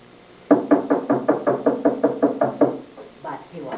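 Someone knocks on a door in a rapid, even series of about a dozen sharp raps, close and clear, followed by a couple of fainter taps after a short pause.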